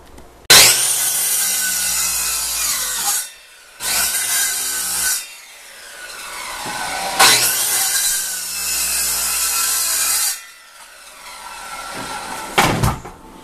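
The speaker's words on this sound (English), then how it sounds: "Ripping up the hardwood?" Hardwood flooring being ripped up during a bathroom renovation: long, loud, close scraping and grinding strokes of wood, four or five sustained bursts separated by short silences, with no talk.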